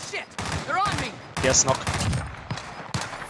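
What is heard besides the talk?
gunfire in the video game Call of Duty: Warzone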